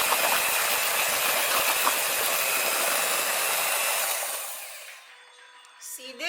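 An electric beater whirs loudly and steadily as it mixes pumpkin pie filling, then winds down and stops, leaving a faint clatter at the end.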